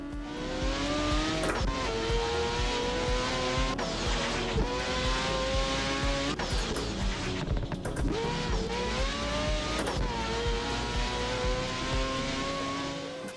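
A powerful car's engine revs and roars continuously in a racing sim game played with a clutch and shifter, pitch climbing and dropping through repeated gear shifts, loud and steady with no talk.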